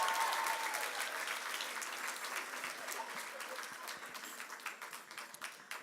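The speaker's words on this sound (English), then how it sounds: "Can I have a round of applause for our summa and magna cum laude scholars?" Audience applause at a 2017 charter school graduation ceremony in Brockton, honoring summa and magna cum laude scholars: dense, sustained clapping from a large crowd that starts loud and slowly thins over about six seconds.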